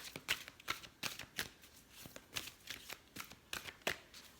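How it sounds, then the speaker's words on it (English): An oracle card deck is shuffled to pull a card, giving a steady run of soft papery riffles and flicks at close range, repeating in quick bursts with no one talking. "Let's pull like an overall advice card from each deck."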